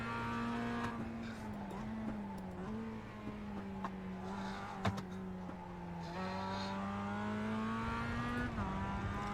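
A Mazda MX-5 Cup race car's engine in iRacing drones close and steady on a qualifying lap, its pitch sliding up and down through gear changes and corners, with a brief sharp click near the middle.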